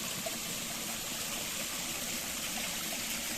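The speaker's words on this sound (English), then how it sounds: "St Oldhelm's well, dedicated to St Oldhelm" Untreated spring water trickles steadily at an old walled holy well in a village, a constant soft splashing hiss with no pauses.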